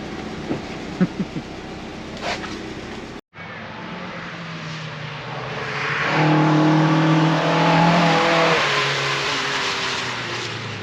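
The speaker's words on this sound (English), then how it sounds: "Ollie's his first time around the circuit in a proper race car" A race car on a circuit, first heard as faint knocks and clatter, then its engine rises into a loud droning rev that swells, holds and slowly fades as it passes.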